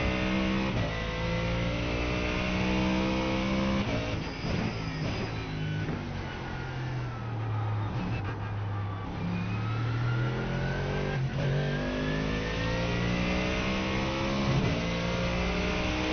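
Race car engine in iRacing at Daytona, loud and continuous, revving up through gears, dipping under braking for a turn, then climbing again as it accelerates out.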